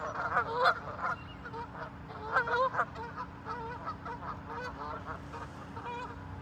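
A flock of geese honk repeatedly and overlapping, moderately loud, with a steady low background hum.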